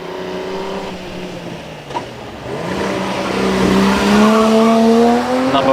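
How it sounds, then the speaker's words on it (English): A supercharged six-cylinder MG N-Type Special races up the Prescott hill climb, its engine note rising steadily in pitch as it accelerates, growing louder and closer through the run with no talk over it. "201 is Roger Tushingham, the N-Type Special MG. Again, supercharged, 6-cylinder"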